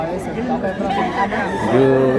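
A young rooster, a stag, gives a short crow up close amid a bustling gamefowl sale in Cebu, with people chatting around it throughout.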